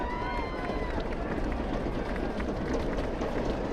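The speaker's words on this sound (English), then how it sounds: "Now our crowd getting a little more into it here." Home crowd at a high school football game, San Marino vs North Torrance, a steady broadband roar of cheering and stadium noise running throughout with no clear breaks, with a commentator's voice over it.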